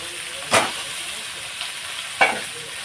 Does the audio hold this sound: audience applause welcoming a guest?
no